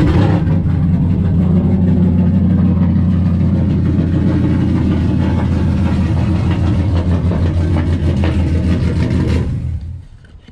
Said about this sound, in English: Get a little cold start on this guy.